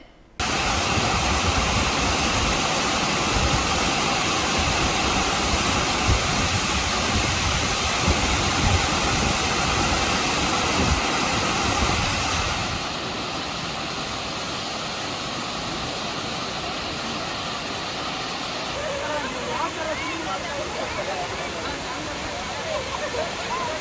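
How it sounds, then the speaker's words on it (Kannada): Water from the overflowing Teeta reservoir in Koratagere pours over the spillway as a loud, steady broadband roar, dropping a little in level partway through and continuing without a break. "ತೀತಾ ಜಲಾಶಯವು ಕೋಡಿಬಿದ್ದ ನೀರು ಚಿಕ್ಕಾವಳಿಯ ಧರ್ಮಸಾಗರ ಕೆರೆಯು ಹರಿಯುತ್ತಿದ್ದು"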